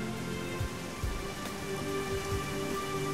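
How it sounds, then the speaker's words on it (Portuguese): Rain pouring in the randomly generated world of the video game Dig or Die, a steady hiss of falling water with a few soft low thumps scattered through, heard alone without talk. "Olha o tanto de água que vem na chuva"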